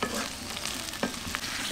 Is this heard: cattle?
no